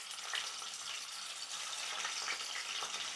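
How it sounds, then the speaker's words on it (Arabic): Steady hiss and crackle of meat seasoned with salt and pepper frying in ghee in a pan, close up and continuous, with no talking. "هبدأ ادي اللحمة كده تحميرة خفيفة."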